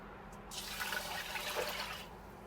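Cup of water pours into a cooking pot, a single short, close splash and trickle lasting under two seconds in a quiet kitchen.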